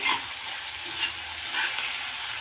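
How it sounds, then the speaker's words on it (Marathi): Chopped green chilli, ginger and tomato for a kaju masala curry sizzle steadily in a hot pan, a soft continuous frying hiss with occasional light stirring scrapes. "अजून आपण टोमॅटो शिजेपर्यंत परतून घेऊ"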